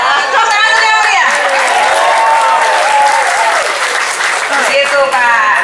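A crowd at a political party branch gathering applauds loudly and continuously, the clapping blended with cheering voices and chatter throughout.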